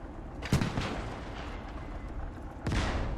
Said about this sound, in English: Our mortars are now our mortars are firing.